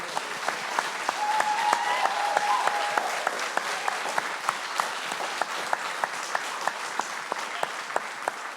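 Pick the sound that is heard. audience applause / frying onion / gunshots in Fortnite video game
audience applause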